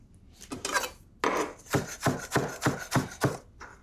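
A knife chops red peppers on a wooden board: a quick run of fine cuts, then a pause, then six or seven steady, evenly spaced chops, close and crisp.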